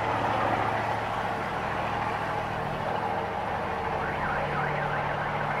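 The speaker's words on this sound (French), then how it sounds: "Ah, on a déclenché l'alarme." A car alarm blares continuously amid the steady engine rumble of a 4x4 off-roading in the Peruvian mountains, with a warbling tone rising and falling toward the end.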